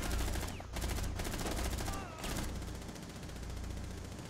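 Dense game gunfire from enemy players in Rainbow Six Siege, Presidential Plane map, rattling in near-continuous bursts with brief gaps, loud throughout.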